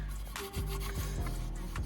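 Hard hand scrubbing on old steel car wheels being cleaned, a rough rubbing rasp repeating in short strokes, close and steady, with no talking.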